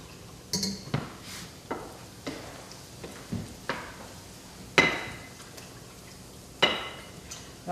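Milk whisked into a flour roux in a cooking pan, heard as a series of sharp metallic clinks and taps of a utensil against the pan at an irregular rhythm, close and fairly loud over a quiet background.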